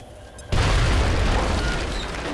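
A grenade in XCOM Enemy Within detonates with a sudden loud boom after a quiet moment, followed by a sustained rumbling roar that fills the rest of the moment.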